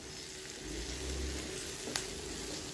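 Spinach greens with grated coconut sautéing in a pan produce a faint, steady sizzle, with one brief click near the end.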